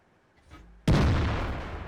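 A tank cannon fires in World of Tanks: a single sudden, loud blast lands partway through and rolls out in a long, heavy decay, preceded by faint low engine rumble.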